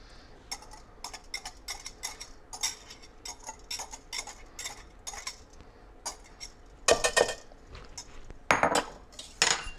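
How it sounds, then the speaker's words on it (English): A utensil stirs keto biscuit batter in a bowl, producing a steady run of close clinks and scrapes with a few louder clattering bursts toward the end, no talk. "we'll just stir that up until everything is well mixed"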